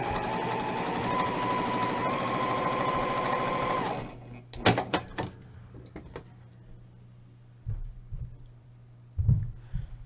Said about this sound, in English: Alright, I'm going to sew this one corner to corner as well.